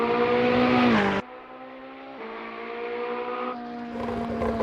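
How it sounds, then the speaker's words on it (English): A Ferrari race car accelerates hard out of a corner at Dunsfold, its engine note climbing steadily and then dropping with a few quick upshifts, loud and close with no talk. "Short shifting on the exit, taming the beast and launching onto the back straight"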